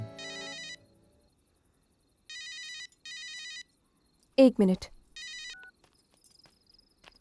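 A mobile phone rings in short repeated tone bursts with gaps between them. A brief spoken word and some nearby sounds come in the middle of the ringing.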